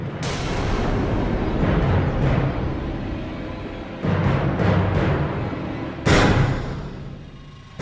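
Loud booming gunshots, one at the start and another sharp blast later, over a dense rumbling background of explosions.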